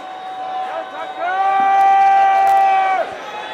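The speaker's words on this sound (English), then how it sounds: "Crowd really getting into it now." Crowd at a Canadian baseball game in the bottom of the ninth, a steady murmur of fans rising into cheering around a loud, sustained horn-like tone that holds for about two seconds before dropping away.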